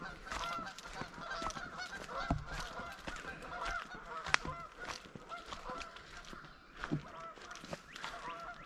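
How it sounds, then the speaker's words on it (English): Geese honking repeatedly over a footpath on raw homestead land, scattered calls overlapping at moderate distance above a soft outdoor background, with no talking. "I haven't heard geese in a while."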